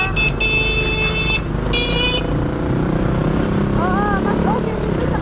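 Dense, loud road traffic on Katipunan with continuous engine rumble and several car horn blasts near the start, people talking over the din.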